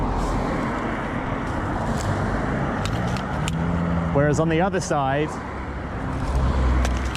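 Cars speed up in traffic at a roundabout, a continuous roadway roar that stays moderately loud under a man's speech, with vehicles rising and passing.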